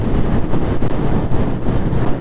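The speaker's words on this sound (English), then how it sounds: "the wind is picking up, guys. It's really windy" Strong wind buffeting the microphone in heavy, low rumbling gusts, loud and continuous.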